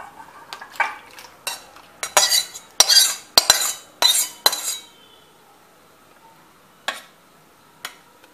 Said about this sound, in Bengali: এবারে এটাকে আমি একটা পাত্রে ঢেলে নেব